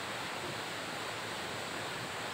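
Steady wind roaring in the open, a dense, even rush of noise filling the whole moment without gusts or breaks, close and constant with no voices.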